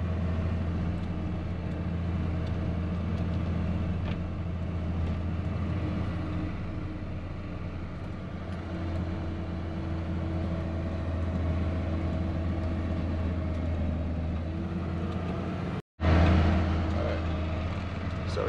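A snowcat's engine drones steadily and loudly from onboard while riding, a constant low rumble with a steady hum that cuts out briefly near the end and then resumes.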